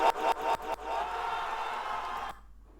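A crowd cheering goal sound effect from the Scratch sports sound library, set in a soccer game, with a few sharp bursts of cheering followed by sustained roaring applause that cuts off abruptly.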